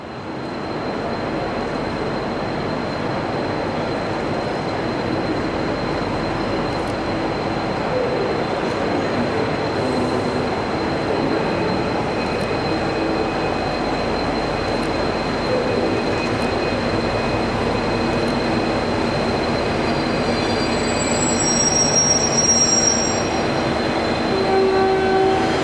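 An N class diesel locomotive hauling a mixed-carriage passenger train rumbles past steadily for a long stretch, with a continuous rolling roar, faint high squeals, and brief tonal horn-like notes near the end.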